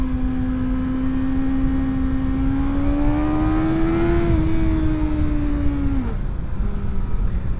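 A BMW M1000XR superbike in first gear accelerates, its engine note climbing steadily in pitch as revs rise, then dropping sharply at a shift near the end, loud and close under constant wind rush.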